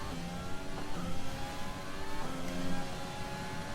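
F1 2020 race car on a Vietnam circuit accelerating out of a corner, a high engine whine climbing through gears with quick shift drops, close and steady with no talk.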